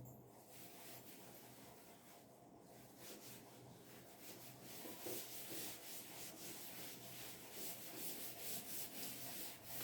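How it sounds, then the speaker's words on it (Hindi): Writing being rubbed off a classroom board, a steady, fairly loud scrubbing and brushing that runs continuously with rhythmic strokes, with no talking. "चलिए रब कर रहा हूँ"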